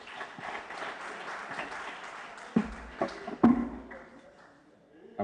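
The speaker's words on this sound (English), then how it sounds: "Can we give another round of applause?" A conference audience gives another round of applause, with soft, scattered clapping heard from a distance, then a few louder sharp claps and knocks that fade out toward the end.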